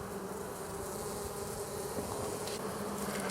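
Honey bees buzz at a beehive being checked before winter, a dense, steady, close drone of many insects with no break and no voices.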